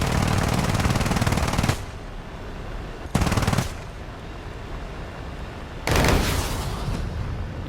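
Anti-aircraft fire from a self-propelled anti-aircraft gun in a video game: two sustained loud bursts of rapid automatic gunfire with a shorter burst between them, set against a steady low rumble.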